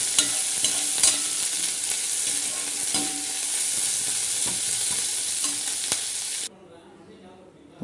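Curry leaves are sautéed in a pan for curry leaf thokku, giving a loud, close sizzle with scraping stirs and occasional clinks before it cuts to near silence.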